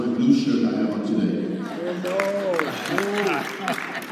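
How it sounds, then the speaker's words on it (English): Convention audience applause rises briefly at the start, then gives way to someone speaking over scattered remaining claps and crowd murmur. "give me a round of applause for my blue shirt I have on today"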